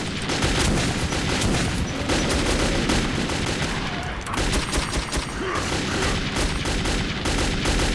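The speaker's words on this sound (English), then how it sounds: "let's use a shotgun" A constant barrage of heavy gunfire in Metro 2033, with booming blasts that fit a shotgun firing over and over in a loud, chaotic fight.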